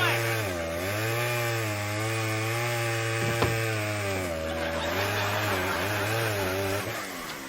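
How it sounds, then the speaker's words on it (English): A chainsaw drones steadily up close, its pitch dipping and rising as it bites into wood cutting down a tree, running continuously throughout. "I can't hear you over the chainsaw!"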